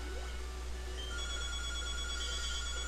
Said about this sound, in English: Phone, it rings.